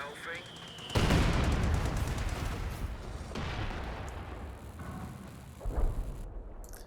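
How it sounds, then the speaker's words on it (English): Artillery and mortar fire in Company of Heroes 2: a loud booming impact followed by a long rumbling roll, then further distant thuds and a closer blast near the end, mixed with battlefield noise. "it's probably the artillery that's been firing. Mainly the mortar section a little bit"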